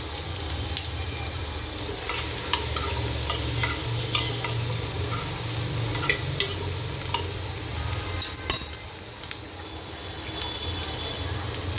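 Green chilies and onions sautéing in butter for butter chicken: a continuous close sizzle with repeated scraping stir strokes and small clinks, and one sharper clatter near the end.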